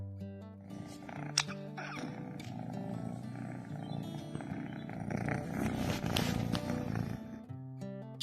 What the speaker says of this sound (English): She also has a purr that, according to her mom, heals the soul